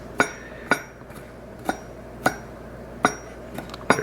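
A knife slices garlic and ginger thinly on a cutting board, producing sharp, close taps spaced about half a second apart, roughly eight strikes in a quiet kitchen.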